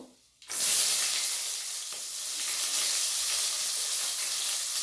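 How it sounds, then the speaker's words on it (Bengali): Two medium chopped onions hit hot oil in a pan alongside cardamom and cloves, bursting into a loud, steady sizzle after a brief quiet start that holds evenly throughout, with no voices. "এবার আমি মিডিয়াম সাইজের 2টো পেঁয়াজ কুচিয়ে রেখেছিলাম, ওটা দিয়ে দেবো।"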